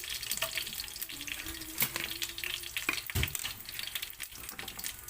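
Curry leaves and dried red chili frying in hot oil for dal, a close, steady sizzle and crackle with a few louder pops and stirring scrapes, no talking.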